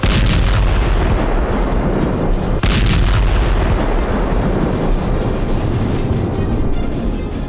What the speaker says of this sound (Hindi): जबरदस्त धमाके के बाद आग की लपटें उठी